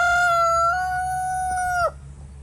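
Edgar, a rooster bought as a hen, gives one loud, close crow of about two seconds with a long held tone that breaks off sharply at the end, over a low steady background hum.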